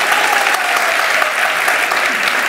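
Studio audience applause on a Turkish TV show set, a dense, steady, loud wash of clapping from a large crowd that holds evenly throughout.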